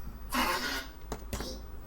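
Rosie, a child on morning cough syrup, gives a couple of short hoarse coughs nearby, with a throaty burst followed by two quicker sharp coughs over a quiet background hum.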